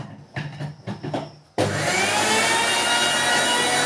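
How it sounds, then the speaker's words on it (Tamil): A kitchen mixer grinder blending ginger and garlic: a few soft handling clicks and knocks, then the motor snaps on to a loud, steady, close whirring roar that continues without a break to the end. "நான் வந்து இதை அரைக்க போகிறேன் மிக்சியில்"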